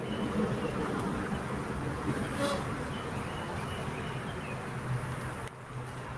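Honeybees drone in a steady, dense buzz at the front of a hive outdoors, a continuous close swarm hum that stays loud throughout with no voices over it.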